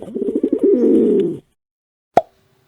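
A pet pigeon gives one close, throaty rolling coo lasting over a second, followed after a pause by a single sharp tap.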